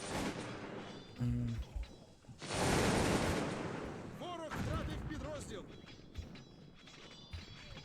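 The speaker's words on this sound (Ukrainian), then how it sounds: "Обмінялись з пострілами і відходять" Musket volleys in the Cossacks 2 strategy game, bursts of crackling gunfire and booms mixed with battle noise, someone talking over much of it.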